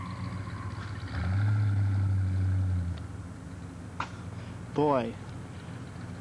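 A 1990 Cadillac engine revving hard during a burnout, a loud low drone held for a couple of seconds and then easing off, followed later by a brief higher rev, with someone speaking briefly.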